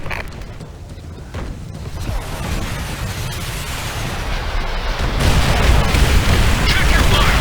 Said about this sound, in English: another rocket strike! Now! Salvo on target.